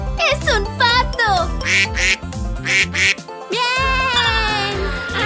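Cartoonish duck quacks sound over a bouncy children's song, with a repeated nasal honking amid sung melody and bright music throughout.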